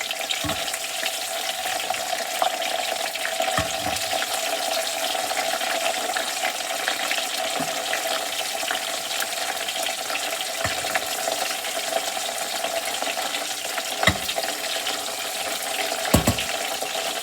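Waffle-cut potato fries sizzle and crackle steadily in a pan of hot oil, a dense, continuous frying hiss with a few sharper pops and bumps scattered throughout, close and fairly loud with no voices.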